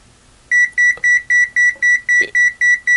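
An ANENG AN870 True RMS multimeter gives a steady run of sharp, loud electronic beeps as a high-current warning above 10 amps. The evenly spaced pulses start after a brief quiet moment and repeat about five times per second.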